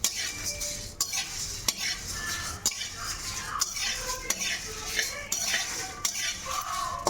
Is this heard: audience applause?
no